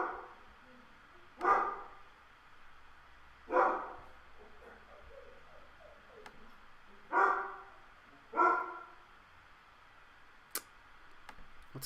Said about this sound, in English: Don't mind the dogs going crazy.